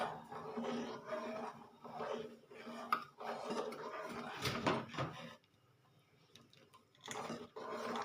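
Besan (gram flour) batter being stirred in a pan for zunka, with repeated scraping and clinking of a utensil against the metal, close and moderately loud, in bursts separated by a quiet pause.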